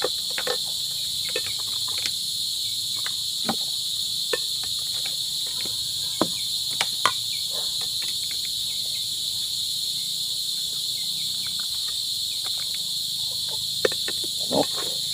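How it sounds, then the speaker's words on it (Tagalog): Steady, dense crickets (kuliglig) chirping throughout, a continuous high trill at moderate loudness with occasional faint clicks and knocks in the background of a home kitchen setting. "tumutunog na naman yung tawag doon, yung kuliglig"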